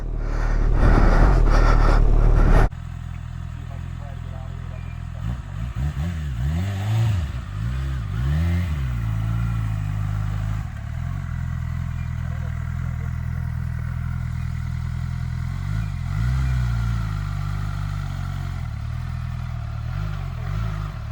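A 2019 Honda CB1000R motorcycle climbs uphill through snow drifts, its engine briefly roaring loud at the start, then settling into a lower labored drone with rising and falling revs as it pushes on.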